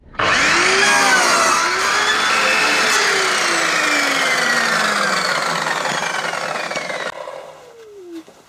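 A power tool cuts wood to size with a loud, sustained whine that shifts in pitch as the blade works through, then cuts off sharply before a short fading tail.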